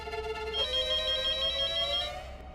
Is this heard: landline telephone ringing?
yes